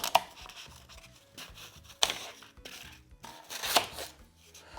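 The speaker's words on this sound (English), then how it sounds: "I'm gonna go ahead and cut with my florist knife" Florist knife slicing through a block of floral foam, giving a few crisp scraping cuts at irregular intervals, close and moderately loud with quiet stretches between strokes.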